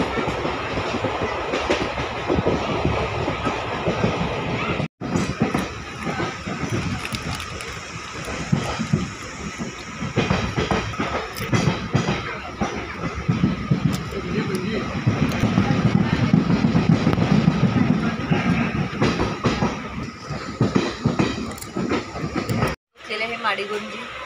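A passenger train rolls along the rails near Madigunji station on the Hubballi Siddharoodha Swami Math route, with a continuous loud rumble and rhythmic clickety-clack throughout and voices faintly underneath.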